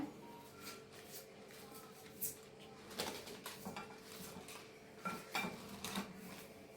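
Fried dried red chillies are moved from a pan into another bowl, giving faint, irregular metallic clinks and scrapes of a spoon against cookware, with a few sharper knocks.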